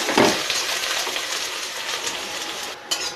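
Onions sautéing in oil with curry leaves sizzle and crackle steadily in a pan, close and moderately loud, with a brief louder stir near the start and a clink near the end.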